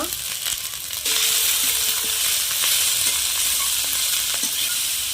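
Chopped cabbage and other vegetables lightly frying in a pan with salt, a steady loud sizzle with occasional stirring scrapes and clinks.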